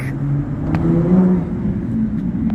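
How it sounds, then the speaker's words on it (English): A Porsche on a Beverly Hills street near Rodeo Drive, a steady engine hum and road rumble from a passing car, fairly close, with light traffic noise around it. "Porsche of some kind."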